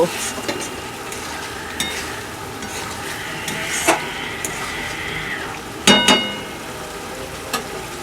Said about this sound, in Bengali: মিট মশলা দিয়ে আমরা আরও একবার সবটা মিক্স করে নেব।